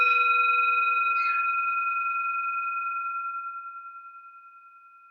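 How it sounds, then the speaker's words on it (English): A single strike of a mindfulness bell rings out clearly, its pure sustained tone slowly fading over several seconds with a gentle wavering shimmer, close and alone. "Thanks for amusing me with my mindfulness bell."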